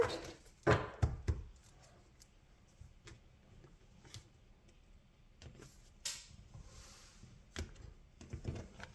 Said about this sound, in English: One more quick shuffle here before we start.